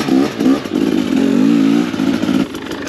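A KTM 250XCW enduro motorcycle engine, ridden easy on a break-in run, revs loudly and close by, the buzzing pitch rising and falling over three seconds with a short dip in the middle.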